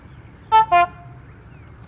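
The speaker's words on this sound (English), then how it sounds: "You don't talk, you honk." Two short, bright honks from a horn, the first slightly higher, in quick succession against a quiet background; the sound may come from a clarinet standing in for a horn on a children's television street set.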